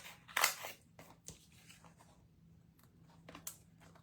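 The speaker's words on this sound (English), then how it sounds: "I'll just cut it a little bit smaller than where I've got my scissors out here. You can just freehand cut this." Scissors cut freehand through card: a few crisp snips and crunching cuts, quiet and close, separated by short pauses.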